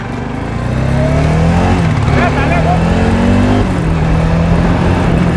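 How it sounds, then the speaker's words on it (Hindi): A motorcycle, a Himalayan BS6 or Dominar 400, pulls away after being put into first gear, its engine note rising loud and close as it accelerates steadily, with someone talking over it. "ये डाला फर्स्ट गियर और ये चलाते हैं बाइक।"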